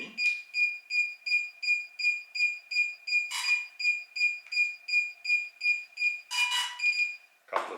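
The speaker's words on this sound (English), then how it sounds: "connect aircraft, controller beeps" DJI drone remote controller beeps while linking to a Mini aircraft: a long, regular series of bright, evenly spaced electronic beeps, close and clear, with a couple of brief rustling handling noises in between.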